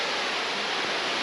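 Waterfall spilling from Willow Lake on a high Colorado mountain trail: a loud, steady broadband rush of falling water, close by and continuous, with no voices.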